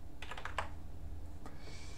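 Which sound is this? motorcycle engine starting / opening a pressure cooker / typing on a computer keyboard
typing on a computer keyboard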